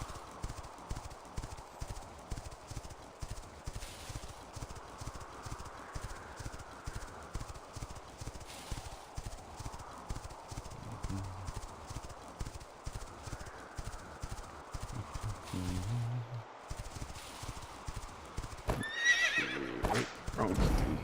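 Hooves clip-clop in a steady, rhythmic gallop throughout, and a horse neighs near the end, in the video game The Quinfall. A voice talks over the galloping.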